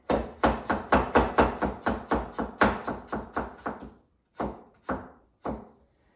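A knife chops potato and bell pepper on a board for a stir fry: a fast, steady run of about fifteen close, crisp thuds, then a pause and three slower separate cuts.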